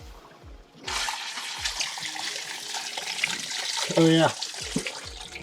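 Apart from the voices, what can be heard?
water running from an unconnected hose on a sailboat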